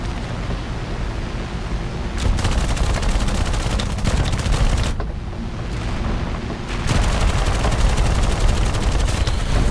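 Machine gun fire during a P-40 dogfight in War Thunder: long, dense bursts of rapid gunfire over a constant engine roar, loud and close, with brief pauses between volleys.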